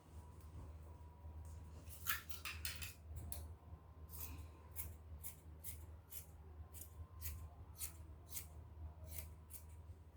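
Scissors snipping out a fabric sleeve piece for a shirt dress, a run of quiet, crisp cuts in uneven rhythm over a low steady hum, close but faint, no talk.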